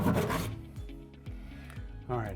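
Drywall being cut by hand for an in-wall safe install, a steady rasping, scraping saw stroke up close with a loud opening burst, then quieter rhythmic rubbing pulls and another surge near the end.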